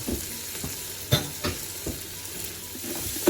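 Celery sizzles in a pot of white bean turkey chili with onions, an even hiss of frying broken by several scraping stirs of a utensil against the pot, close and clear.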